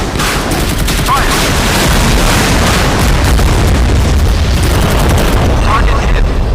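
A naval gun in the warship game Modern Warships fires at an incoming missile, loud dense booms and rumbling blasts run together continuously, with voices mixed into the barrage.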